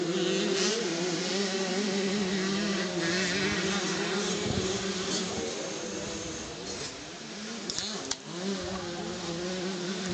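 Motocross bikes, including Husqvarna and Yamaha machines, race at a club championship round; several engines drone and rev together in a continuous buzzing whine that rises and falls in pitch.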